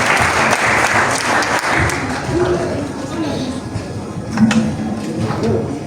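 Applause from an audience at a cultural ceremony of African students in Meknès, greeting the president of an association; dense clapping fills the whole stretch, with voices mixed in beneath it.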